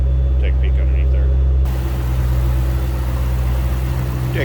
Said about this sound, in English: Nice deep throaty exhaust note.